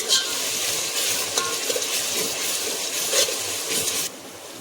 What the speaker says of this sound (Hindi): ये देखिए भून रहा है